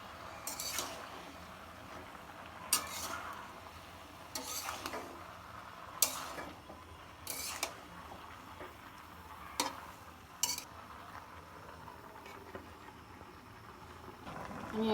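Tomato sauce in a pot is stirred, with a faint low simmer broken by several sharp spoon scrapes and knocks against the pot, spaced irregularly and heard close.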